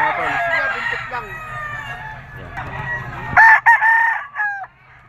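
Gamefowl roosters at a farm, among them a white-legged bulik cock, crowing loudly and close by, with clucking and other birdsong in the background.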